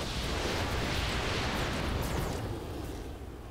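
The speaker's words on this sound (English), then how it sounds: "Going to fire on this guy." Mech weapons unload together in the RogueTech BattleTech game, a dense, loud roar of blasts and impacts that holds steady for a few seconds before tapering off slightly, with no talk over it.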